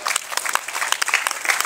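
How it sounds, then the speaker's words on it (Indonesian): Audience applause at a Hindu dharma talk, a dense steady patter of many hands clapping throughout, close and fairly loud, with no other sound on top. "Tepuk tangan Bapak Ibu sekalian."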